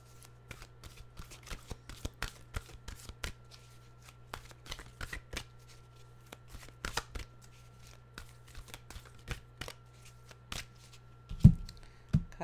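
A deck of tarot cards being shuffled, with a long run of crisp riffling flicks and card slaps, close and fairly quiet, ending in a louder knock near the end.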